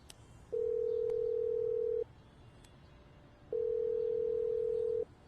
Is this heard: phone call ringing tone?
yes